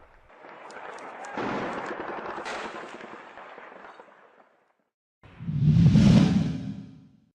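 A large explosion sends up a fireball in the sky, heard as a long rushing roar that fades, a pause, then a second heavy, booming burst close and loud.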